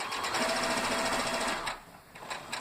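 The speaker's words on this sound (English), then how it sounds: "I'm going to finish this 1/4 inch seam." Sewing machine stitching a 1/4 inch seam on quilt binding, a rapid close mechanical whir for about a second and a half, then it stops and leaves a few faint clicks.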